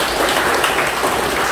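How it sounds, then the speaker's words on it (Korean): A church congregation gives dense, sustained applause during a Mass, a thick, even roar of many hands clapping with no clear individual claps and no speech over it. "박수 주시면"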